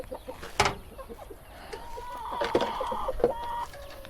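A male Indian rooster gives a series of clucks near a farmyard coop, with one sharp call and a longer drawn-out vocalisation in the middle, close and moderately loud.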